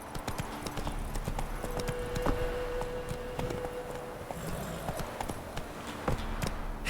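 Horse hooves clip-clopping at a steady walking rhythm in the video game Witcher 3, clear and fairly close, with a faint low voice and soft game ambience underneath.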